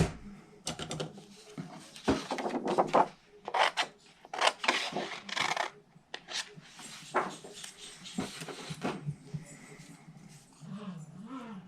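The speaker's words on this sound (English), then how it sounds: "so I'm going to cut that out by hand." Paper is cut out by hand with scissors for a unicorn treat bag, giving close, intermittent snipping and rasping strokes in uneven bursts with quiet gaps between.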